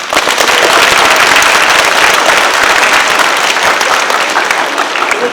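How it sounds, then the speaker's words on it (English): Loud, close round of applause from an audience at a Massachusetts Teacher of the Year award ceremony in an elementary school, a dense crackling wall of clapping that holds steady for the whole stretch. "Give her a round of applause."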